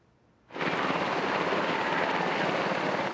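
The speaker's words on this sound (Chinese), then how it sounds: "也空勤总队的直升机嘛出动来到拍火" A firefighting helicopter flies over a cemetery fire at Dadu Fourth Cemetery in Taichung. After a brief quiet moment, a loud, steady rotor and engine roar sets in abruptly and stays strong and continuous.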